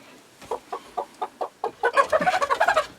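Pet hens being moved at night, giving a run of soft, evenly spaced clucks that quicken into a denser burst of close, louder clucking and squawks, with no talk.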